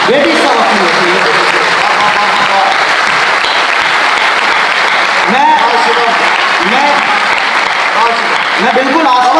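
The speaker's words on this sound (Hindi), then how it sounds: "आप तालियां बजा रहे हैं" A student audience at a Hindi kavi sammelan poetry recital at NIT Jalandhar bursts into loud, sustained applause that fills the hall at an even level throughout, with voices and cheers mixed into the clapping.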